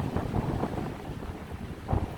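Blustery wind buffets the microphone at a campsite with a pitched tent, a continuous rough rumble that swells in gusts with no other sounds.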